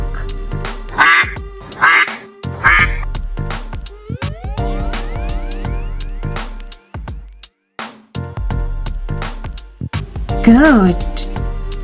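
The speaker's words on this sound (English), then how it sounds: "Duck." Cartoon duck quacks from a children's phonics song, several short nasal quacks in a row over bouncy music, near and clear, with a sung word between them.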